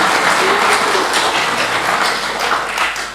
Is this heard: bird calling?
no